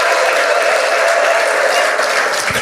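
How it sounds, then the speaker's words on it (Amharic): A congregation at an Ethiopian evangelical church service in Ottawa bursts into loud, sustained clapping, with a steady high ululating tone running through the dense applause. "እስቲ ለዚህ ጌታ እልልታና ጭብጨባ።"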